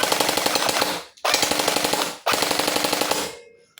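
A Bohan MK8 gel blaster toy gun rattles off three loud full-auto bursts with tiny gaps between them, close up and without voices, ending in a short quiet tail.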